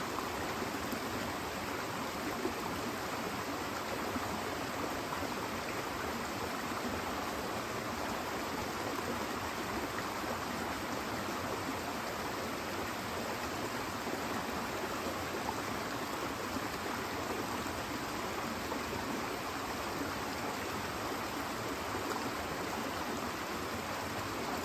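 A small brook running high after December storms rushes steadily for the whole span, a dense, even wash of water noise heard close, with no talk.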